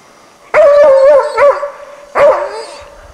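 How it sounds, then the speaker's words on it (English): A hunting dog gives two loud, ringing barks with a drawn-out, howling tone, close and clear, separated by a short pause. "A good dog has a strong ringing bark it carries well"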